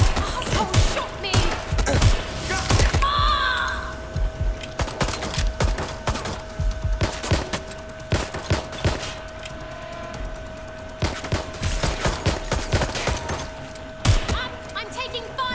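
Gunfire rattles in the Watch Dogs: Legion video game, repeated sharp bursts and single cracks scattered through the scene, some close and loud, others more distant, with a steady electronic hum underneath and a brief whistling tone partway through.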